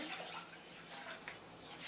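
Water pouring into a saucepan for baklava syrup, a soft, quiet splashing stream lasting under two seconds with a small splash partway through.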